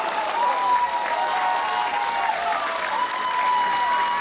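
Crowd at the women's pairs final of the 2025 Australian Open lawn bowls bursts into steady applause and cheering after a shot, a dense continuous roar of clapping lasting throughout.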